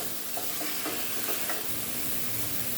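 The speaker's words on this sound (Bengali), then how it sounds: "আলু একটু ভালো করে কষিয়ে ফুলকপি দিয়ে দিয়েছি।" Potatoes and cauliflower fry in a pan with a steady sizzle while a utensil stirs and scrapes through them, several distinct stirring knocks over continuous frying.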